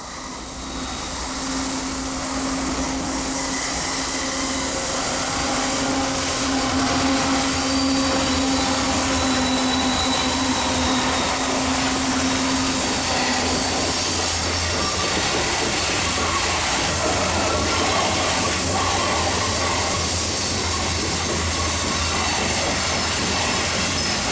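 Mixed freight train bound from Spring, Texas to St. Louis races past on the Little Rock subdivision of the old Texas & Pacific line, a loud, steady roar of wheels and rail noise with a drawn-out squeal, no voices.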